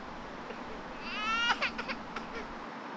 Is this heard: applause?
no